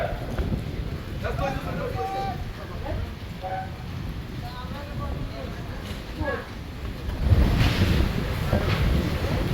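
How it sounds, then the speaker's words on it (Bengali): Wind and rain-driven waves roar against a river launch with gusty buffeting on the microphone, a continuous wash of water that swells louder toward the end, and muffled voices talking underneath. "তো বৃষ্টি, বাতাস, ঢেউ সব কিছুকে মোকাবেলা করে"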